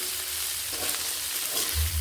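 Green peas and mixed vegetables fry and are stirred in a pan for veg egg chow mein, a soft, steady sizzle with faint scraping and a low thump near the end.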